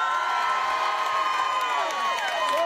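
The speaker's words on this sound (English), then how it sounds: "Big cheer here for the Crows." A crowd at an Adelaide Crows open training session cheers, with shouts and whoops from children standing out above a dense, steady roar close by.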